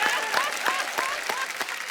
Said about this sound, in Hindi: आज तालियां ही बजाएंगे हम